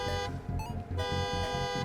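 A car alarm in the Midnight Motorist minigame of a Five Nights at Freddy's video game blares in a steady, rapidly repeating pulse of loud tonal honks, alone and with no talk.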